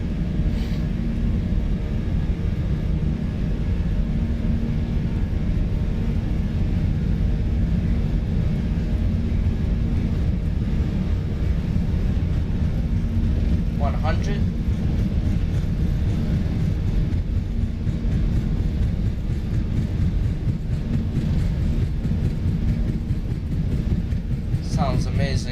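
Airbus A320 jet engines at takeoff thrust in Microsoft Flight Simulator 2020, a loud sustained low roar and rumble holding steady throughout as the aircraft accelerates down the runway.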